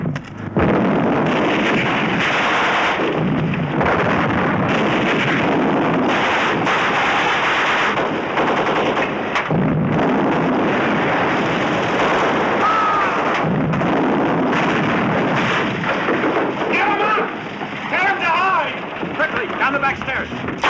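A rifle volley rings out after a shouted order to fire in a Holocaust drama film scene, producing loud, sustained rolling blasts and crackling gunfire that fill the whole stretch, with shouting voices over it.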